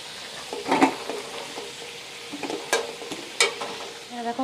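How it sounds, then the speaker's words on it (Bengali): Potatoes frying in white oil in a pan, crackling with a steady sizzle and a few louder bursts as they are stirred and turned, close and alone without talk. "আলুটা লাল লাল করে ভেজে নেব"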